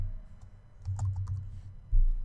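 Computer keyboard keys clatter in quick, uneven bursts as a label name is retyped in Moodle, close and clear with no talking.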